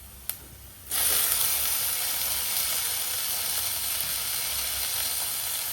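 A faint click comes first, then tomatoes hit onions frying in a pan and set off a sudden loud sizzle that stays steady and hissing to the end.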